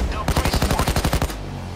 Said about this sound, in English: the police will stop shooting us